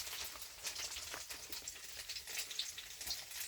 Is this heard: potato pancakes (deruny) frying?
yes